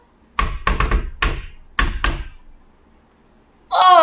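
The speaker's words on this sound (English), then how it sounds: "he heard a knock on his door" Five heavy knocks strike a wooden door in a quick irregular pattern, close and loud, followed by a brief pause before a voice cries out.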